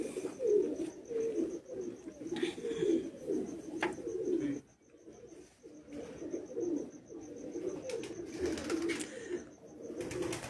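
A champion-breed racing pigeon coos nearby in low, rolling, repeated calls, with a faint higher chirp now and then and a short pause midway.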